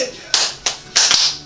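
Four sharp claps or slaps in quick uneven succession, close and bright, the last two nearly back to back.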